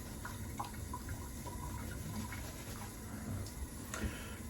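Water trickles and splashes from a tap while being added to shaving lather for a straight-razor shave, a steady running flow with small drips and clinks, close and moderately quiet.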